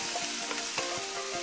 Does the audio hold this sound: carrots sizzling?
yes